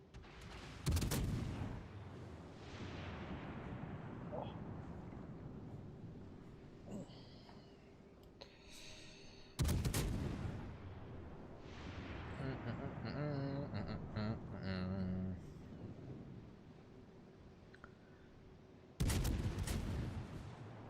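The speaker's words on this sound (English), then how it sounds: "Why are they all just firing HE at it?" Warships in World of Warships fire HE shells at an AI target. Heavy booming salvos land roughly every nine seconds, with quieter rumble and a voice talking in between.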